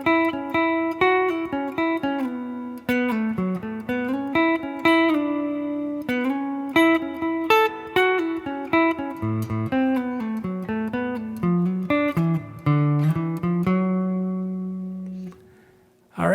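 Clean single-note guitar lines in a four-bar call-and-response phrase from a guitar solo, melodic notes with slides and bends played alone, close and clear, ending on a sustained note.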